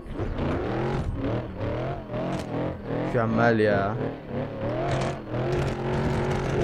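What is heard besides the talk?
BMW E36 car engine, video game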